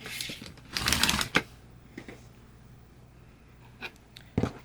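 Scissors cut through quilting cotton, with a dense rasping snip-and-slide burst near the start followed by a few short, quiet cutting and handling sounds.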